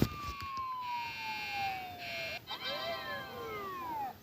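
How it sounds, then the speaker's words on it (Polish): A police car siren in a Roblox game wails with long sweeping falling and rising tones, fairly clear over a low background rumble, with a brief knock partway through. "Policja jedzie."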